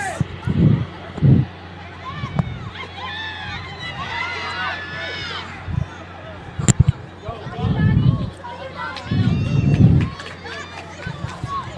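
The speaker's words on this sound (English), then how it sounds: "Very lively crowd here at the Prairie View A&M Sports Complex" Lively crowd at a Prairie View A&M versus Southern University soccer match at the Sports Complex: murmuring chatter with repeated bursts of cheering and shouting, and a sharp whistle-like tone cutting through midway.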